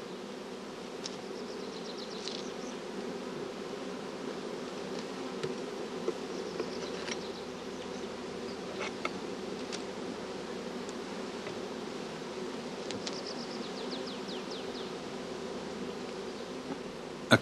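A steady drone of many honey bees buzzing around a hive, with occasional individual bees zipping past close by; no voices.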